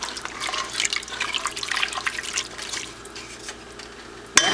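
A flour and water mixture pours and splashes into a pot in a continuous, wet gurgling stream, ending with a sharp clink of a utensil or container.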